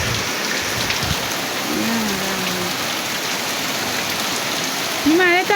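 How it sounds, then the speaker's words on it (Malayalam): Heavy rain pours steadily in a dense, even hiss from start to finish, and a faint voice briefly surfaces beneath the downpour. "ഇനി മഴയത്ത് അവിടെ ഇരിക്കട്ടാ, നല്ല മഴ കേട്ടോ"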